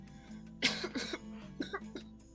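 A person coughs in a quick series of harsh bursts, close by, trailing into softer throaty coughs over a faint steady hum.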